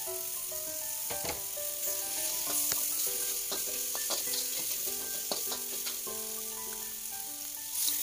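Water poured into frying spice paste with galangal sets off a steady, bright sizzle and hiss that lasts throughout, with soft melodic background music underneath.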